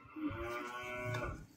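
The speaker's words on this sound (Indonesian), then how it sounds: "Sapi." A cow lows once, a drawn-out moo at moderate distance with a steady harmonic tone, heard alone on a farm.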